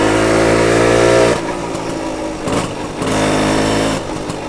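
A BSA Bantam 175 motorcycle engine, still cold, runs nearby with a loud buzzy two-stroke note that drops back to a rougher idle and then rises again, sounding close and steady.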